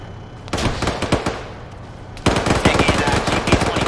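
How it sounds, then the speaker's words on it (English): GP-25 grenade launcher and rifle fire in a military video game: rapid bursts of sharp gunshots crackle close and loud, pause briefly, then resume in a dense volley. "Taking GP-25 fire"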